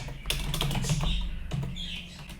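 Keyboard shortcut keys pressed in Blender, a short cluster of soft clicking taps with brief pauses, close and fairly quiet, no talking.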